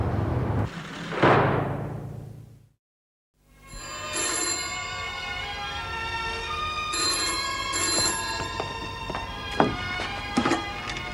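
An old-style telephone bell rings loudly in an indoor setting, a harsh clattering burst, then a brief silence before a long sustained metallic ringing with bright overtones.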